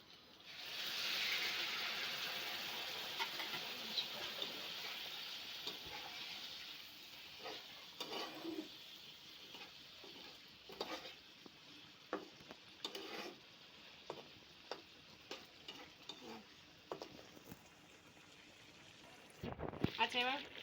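A pan of pointed gourd dorma in poppy seed paste with added water, cooking with a steady soft sizzle while a spoon stirs and taps against the pan in irregular clicks, near and moderately loud, with occasional talk.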